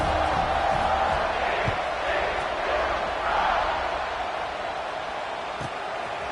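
Stadium crowd at a college football game, a dense roar of cheering and shouting that swells and eases, heard loud and continuous with a few faint thuds.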